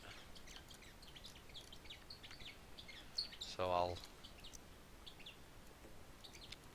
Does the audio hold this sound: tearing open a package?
no